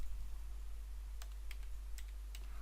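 Computer keyboard typing code, a few faint, sparse key clicks over a low steady hum, with no talking.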